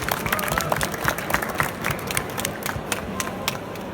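Audience applause at a Q&A event in Brussels, a crowd clapping steadily and fairly loudly for several seconds, sharp individual claps standing out, thinning slightly toward the end, with faint crowd murmur beneath.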